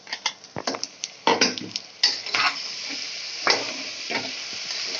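Coarsely chopped tomatoes get stirred into goat intestine curry frying in a pan, with a steady sizzle beneath repeated spoon scrapes and clinks against the metal, close and fairly loud, no voices.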